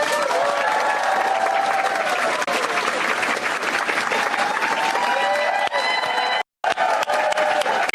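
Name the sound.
audience clapping at campaign speech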